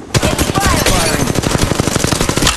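Rapid automatic gunfire from the Apex Legends Mobile video game, a loud, steady burst of closely spaced shots lasting a couple of seconds.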